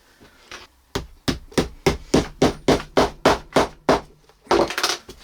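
Copper tacks hammered into Russian leather uppers on boot clogs. About a dozen sharp, evenly spaced taps ring out close and clear, followed after a short pause by a couple of heavier, quicker blows.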